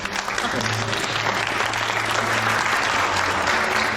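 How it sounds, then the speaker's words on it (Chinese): Warm, sustained applause from a gathered crowd welcomes a guest at a celebration, a thick even wash of clapping that holds steady from start to finish with no talking over it. "让我们以热烈的掌声欢迎程董"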